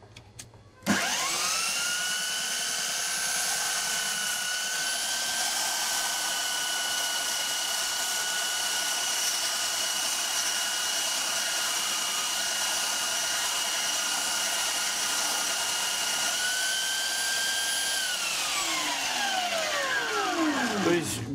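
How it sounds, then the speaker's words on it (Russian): A belt grinder runs at reduced speed while R6M5 high-speed steel is sharpened against the belt, giving a steady, loud, continuous whine with a high grinding hiss for about seventeen seconds, then spinning down at the end. "Без проблем абсолютно точится R6M5."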